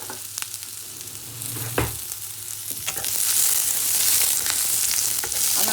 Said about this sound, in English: Now you saute the onions till they start sweating